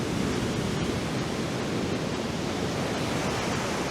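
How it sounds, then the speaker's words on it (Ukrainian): Heavy sea waves churn during a typhoon, a constant dense roar of surf and wind heard from nearby, unbroken and without voices. "От дивіться, які там хвилі."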